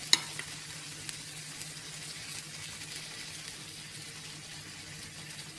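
Uthappam sizzles on a hot pan with oil, a soft steady hiss after a couple of sharp clicks at the start, close and fairly quiet, with no voices.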